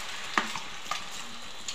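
An egg sizzles in hot oil in a pan for a Kerala-style omelette with kanthari chilli, a soft steady crackle with a few sharper pops.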